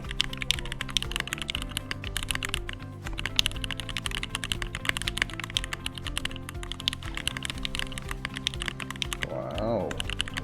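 Steady fast typing on a Keychron Q4 60% mechanical keyboard with Gateron North Pole switches, a dense close clatter of keystrokes with a brief louder rattle near the end and no talking.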